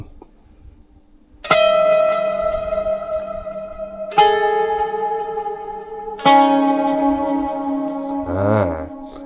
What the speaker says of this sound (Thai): ไอ้ผมจะชอบมีโน้ตแบบโน้ตกระชากแบบลักษณะของโน้ตที่มันกัดกันอย่างนี้ครับผม